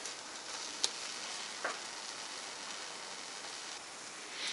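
An egg fries in butter in a pan at lowered heat, a steady soft sizzle and hiss with a couple of faint ticks and small pops, quiet and close.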